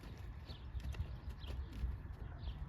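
A horse moving on the ground during groundwork training, with soft, steady hoof clops in an uneven walking rhythm, faint and fairly close, alone with no talk over it.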